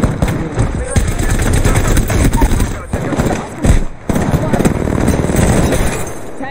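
Gunfire in the Apex Legends video game crackles in loud rapid bursts and scattered single shots, mixed with dense game effects and engine-like rumble across the whole stretch.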